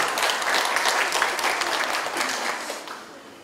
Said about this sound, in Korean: 박수를 굉장히 억지로 치시는 것 같네요